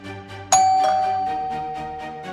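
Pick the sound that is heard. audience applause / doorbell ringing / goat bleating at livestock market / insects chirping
doorbell ringing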